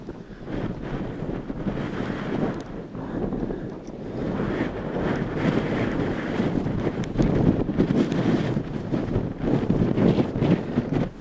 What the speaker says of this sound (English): As you can see, it's quite windy here